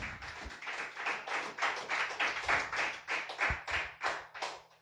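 Members of a church congregation clap in praise to the Lord, with distinct, rhythmic claps ringing out fairly close in a small room, each beat separate and punchy, steady for several seconds.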